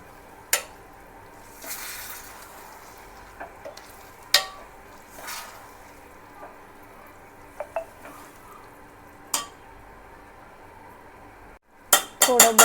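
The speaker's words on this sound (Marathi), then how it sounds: "तर आपण ह्याच्यामध्ये भाज्या मिक्स करून घेतल्या आहेत, ते आता मिक्स करून घ्यायच्या।" Mixed vegetables for pav bhaji being stirred in a pan, with scattered sharp scrapes and clinks of a spoon against metal over a low, quiet sizzle, close and intermittent, ending in a quick burst of clatter.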